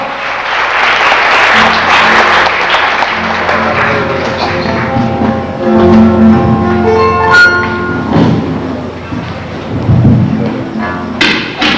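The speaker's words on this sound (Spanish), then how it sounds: "el aplauso de ustedes en esta marcha, el Festival Nacional de la Paloma" Applause from a festival audience at the Festival Nacional de la Paloma swells loudly at first, then gives way to harp-like plucked music and a few thumps.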